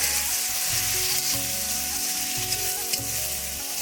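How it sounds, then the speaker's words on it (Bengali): Sliced onions and tomatoes fry with whole spices in hot oil for a Bengali festive dish, giving a steady, close, loud sizzle with faint stirring scrapes and no talk. "এবার পেঁয়াজগুলো দিয়ে দেবো, ভালো করে এগুলো ভেজে নেব।"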